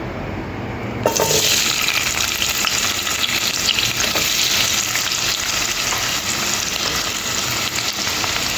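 Onions dropped into hot oil set off a sudden loud sizzle that keeps hissing steadily up close, as a base for moringa dal fry. There is no talk.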